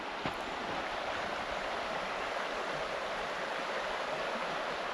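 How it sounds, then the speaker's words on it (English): A mountain stream along a bush walking trail flows in a steady, dense rushing wash, continuous and fairly close with no other sounds over it. "Nice mountain stream."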